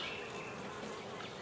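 Honey bees buzz around a wax comb frame in a beehive, a faint, steady, continuous swarm drone with no voices.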